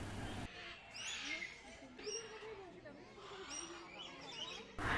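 Lory parrots in a zoo cage give short high chirps and squeaky calls scattered through a busy enclosure, set against steady background chatter and murmur, with a person speaking at moments.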